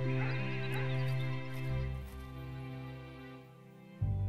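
Sheep bleating in the Hero of the Kingdom video game, a sustained, wavering bleat with another animal cry layered over steady in-game background sound, ending with a brief soft thump.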